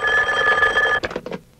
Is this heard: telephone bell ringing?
yes